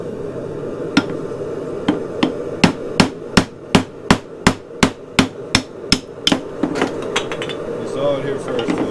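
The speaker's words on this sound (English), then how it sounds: "Just hoping it'll break my ironwood stick." A hand-forged knife strikes an ironwood stick again and again, a series of about a dozen sharp, loud, evenly spaced cracking blows close up, followed by quicker lighter taps.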